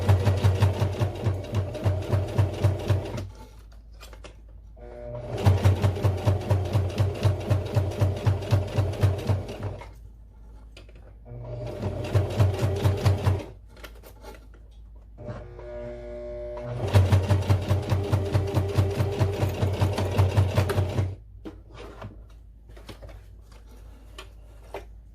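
A home sewing machine stitching a beginner's fabric pouch runs in four long bursts with short pauses between them, its rapid needle rhythm sounding heavy and clunky at close range, with no talking.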